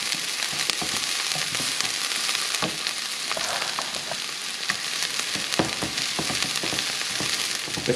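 Vegetables sweat down in a frying pan for Maltese baked rice, giving a steady, close sizzle with occasional crackles and stirring scrapes throughout, no voices.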